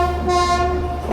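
Avadh Assam Express passenger train pulling away on a foggy night, a steady rumbling rail drone with a sustained tonal horn-like hum throughout, close and fairly loud, no voices.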